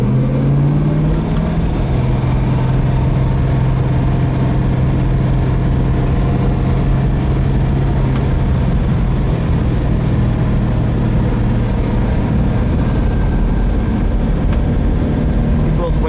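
A 1968 Plymouth GTX with a 426 Hemi and 4-speed drives along, its engine a loud, steady low rumble held close throughout, with a Dana rear end whining beneath it.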